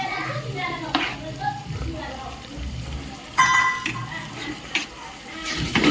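Ginger-garlic paste and coconut paste frying in a pan, with soft sizzling and stirring scrapes throughout, a few brighter clatters of a utensil against the pan, and a voice chattering in the background.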